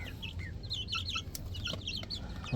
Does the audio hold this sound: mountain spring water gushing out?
no